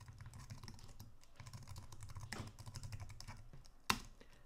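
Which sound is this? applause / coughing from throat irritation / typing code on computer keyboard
typing code on computer keyboard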